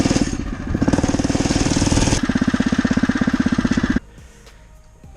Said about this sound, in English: every time when I give it gas, these fenders just really vibrated like crazy